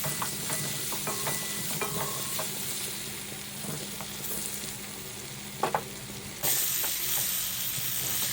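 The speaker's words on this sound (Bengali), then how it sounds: "এরপর কড়াইয়ে সরিষার তেল দিয়ে আলুগুলি ভেজে নিচ্ছি।" Potato pieces seasoned with salt and turmeric fry in mustard oil in a wok, giving a steady close sizzle broken by clinks and scrapes of stirring, with the frying hiss growing louder toward the end.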